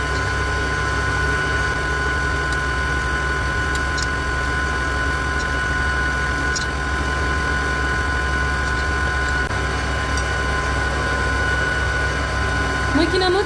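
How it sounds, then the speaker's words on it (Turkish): A Karaca Mastermaid kitchen machine kneads dough at speed 4, a loud, steady motor whir with a constant hum and faint periodic knocks, running close and unbroken throughout. "Makinam 4. kademede çalışıyor."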